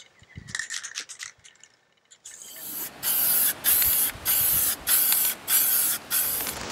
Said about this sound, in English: we're going to apply a first thin coat of the barbecue spray paint